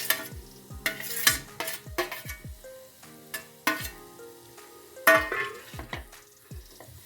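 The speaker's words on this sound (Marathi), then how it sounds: "तिथे थोडं तूप घालून घ्यायचं, 1 चमच वगैरे, आणि ते मॅश केलेलं रताळे घालायचं." Mashed sweet potato is stirred in ghee in a hot kadhai, a spoon scraping and knocking against the metal pan in quick repeated strokes over a soft sizzle, with no talking.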